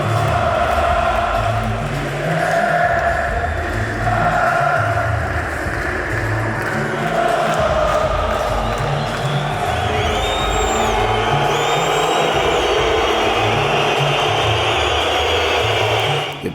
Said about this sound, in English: heard the sounds of the Fenerbahce crowd, whose fans had traveled from miles away